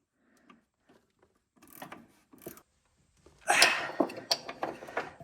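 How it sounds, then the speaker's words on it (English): Clicks and scrapes from a 17 mm ratcheting wrench working car shock and suspension bolts, starting as sparse faint ticks and then growing into a louder cluster of ratcheting and metallic knocks near the end. "I found the 17 ratcheting wrench."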